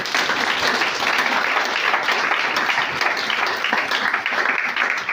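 A church congregation applauds in a burst of dense, loud clapping that lasts several seconds without letting up, with no talking over it.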